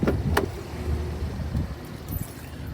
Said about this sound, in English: All you do now is unlock the car,